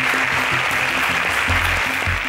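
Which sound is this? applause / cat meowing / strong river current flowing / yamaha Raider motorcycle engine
applause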